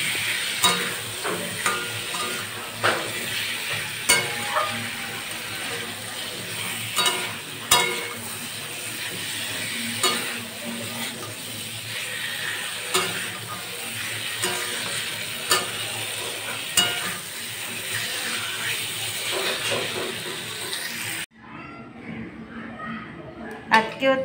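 Large potato chunks and cooked-down spices sizzle steadily in a pan for a Holi special meal, with repeated scraping stirs and light clinks, close and continuous, while someone talks over it before it cuts off near the end.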